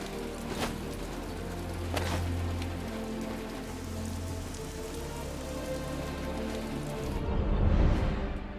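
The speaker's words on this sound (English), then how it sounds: "It's still raining." Steady rain falls in the video game Marvel's Midnight Suns, a continuous dense patter on surfaces that swells slightly near the end, with no talking.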